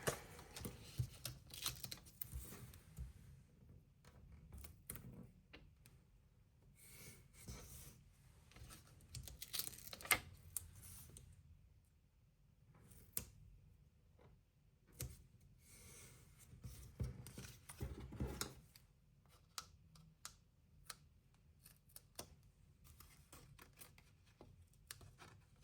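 Scissors snip craft paper strips in quiet, irregular clusters of close, crisp cuts, with paper rustling and handling sounds between them.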